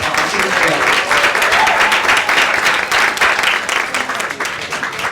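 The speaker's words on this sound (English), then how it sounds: "Yes, please give her a round of applause." Steady, loud applause from an audience at a United Nations forum side event on people of African descent, dense clapping sustained throughout with a faint murmur of voices mixed in.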